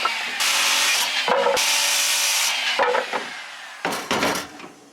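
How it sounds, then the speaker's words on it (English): A power saw fitted with a finish blade cuts through wood boards for a loft bed outdoors in cold weather, a loud whining rasp in several passes broken by brief pauses, close and with no talk. "I put a finish blade on my saw, so hopefully it'll be a nice smooth cut."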